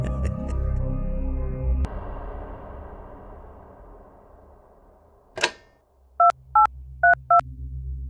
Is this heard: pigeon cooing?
no